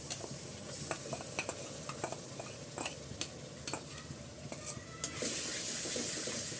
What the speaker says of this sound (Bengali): আদা রসুন বাটাটাও আমি ভালো করে কষিয়ে নিচ্ছি একটু